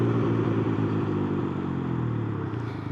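A Can-Am Ryker three-wheeler brakes to a halt, its engine note falling steadily over a few seconds with a mid-range motor rumble, heard close from the rider's position.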